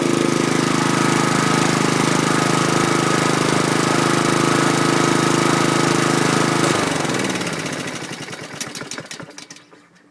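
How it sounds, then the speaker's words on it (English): A 2011 Troy-Bilt push mower engine with a quiet muffler runs close and steady at idle, then cuts out and sputters to a stop about seven seconds in. "It's got a nice smooth sounding muffler, nice and quiet."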